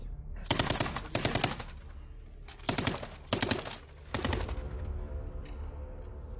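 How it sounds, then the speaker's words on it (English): Loud, close bursts of machine gun fire from a battle on Zmiinyi Island, five or six rapid strings of shots separated by brief pauses, followed by a lingering rumble. "our machine gunners were firing intensively at the enemy from their stone cover"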